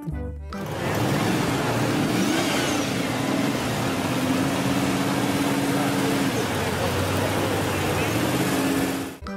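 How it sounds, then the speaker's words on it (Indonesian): A Jeep 4x4 engine revs with a loud, close motor whine that starts abruptly, swells upward, holds a steady pitch and then eases off before stopping. "di sini ada mobil jeep"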